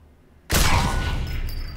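A sniper rifle fires a headshot in Sniper Elite 4, a sudden loud report bursting out of near silence and trailing into a long rumbling echo.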